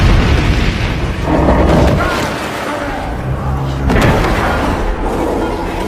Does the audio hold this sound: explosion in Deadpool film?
yes